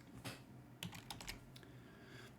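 Short bursts of computer keyboard typing, a handful of quick, crisp keystrokes clustered together and then pausing, close and quiet against a soft background hiss, with no talking.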